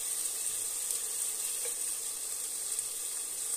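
Ginger and onion sautéing in a pan for chopsuey, a steady soft sizzle of frying that runs evenly and fairly quietly throughout, alone without voices.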